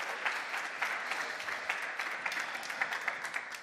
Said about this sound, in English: please welcome Tom Main in a round of applause